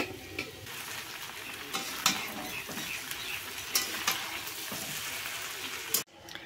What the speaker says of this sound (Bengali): এই যে রাইসটাও হয়ে গেছে, এবার এর মধ্যে ফ্রাই করে নেব